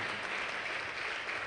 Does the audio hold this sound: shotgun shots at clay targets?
no